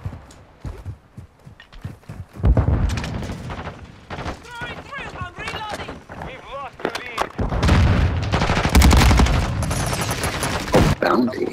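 Gunfire from an enemy player in the video game Call of Duty: Modern Warfare II, heard as loud bursts of rapid shots mixed with game effects and explosions, with sharp transients clustering in the second half of the clip.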